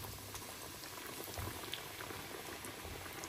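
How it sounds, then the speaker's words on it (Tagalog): Breaded chicken katsu frying in hot oil, a steady dense sizzle and crackle that holds at an even level throughout with no voices. "pwede na natin to iprito."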